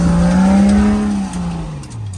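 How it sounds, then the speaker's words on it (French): A Nissan Patrol 4x4 straining at full throttle up a steep off-road climb, its engine droning loudly and steadily, then the pitch sagging slightly under load, close and dominant without speech. "Tu mets tes roues droites et t'accélères pied au plancher"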